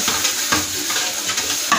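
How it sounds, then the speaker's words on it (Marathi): Two green cardamoms, two cloves, four or five peppercorns and a cinnamon piece frying in hot oil, loud close crackling sizzle with rhythmic stirring scrapes about every half second. "तेलामध्ये छान तळून घेऊया।"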